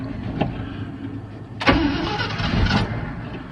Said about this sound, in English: She usually fires right up. That's a cold start.